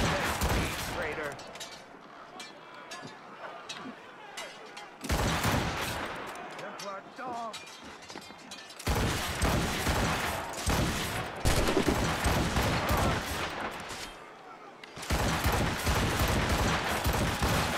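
Gunfire rattles through a combat scene in Assassin's Creed Rogue, with dense volleys of shots in several loud bursts separated by brief drops, mixed with voices and game effects.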